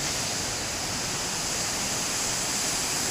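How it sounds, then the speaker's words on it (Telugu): Water pours at full flow through four opened dam gates, a dense, unbroken roar of rushing and crashing water heard up close. "నీళ్ళు ఫుల్గా పడుతున్నాయి"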